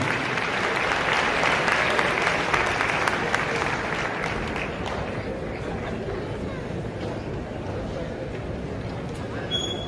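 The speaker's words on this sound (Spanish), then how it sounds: "Vamos a dar un fuerte aplauso a Monseñor" A large audience at a bishops' conference claps in sustained, dense applause that fills the whole span, loud and even, fading slightly toward the end.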